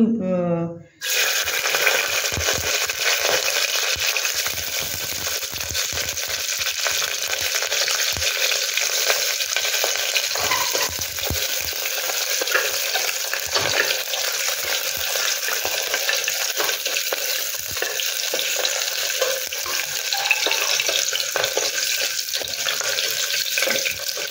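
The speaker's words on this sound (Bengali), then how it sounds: "এবার আমি তেলটা গরম হয়েছে, এর মধ্যে আমি একটু ভেজে নেব, বেশি না।" Oil sizzles and crackles steadily as mutton keema kabab mixture fries in a hot pan, a loud, continuous hiss with scattered pops and occasional stirring, no voices over it.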